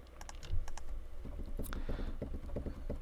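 Scattered clicks of MIDI keyboard keys being pressed, a quick uneven run of taps close by over a low background hum.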